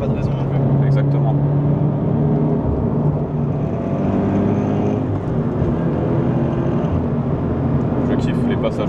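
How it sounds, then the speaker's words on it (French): Toyota GT86 engine droning steadily on the road with gear changes, pitch shifting around the middle, with people talking over it. "Je kiffe les passages de rapport."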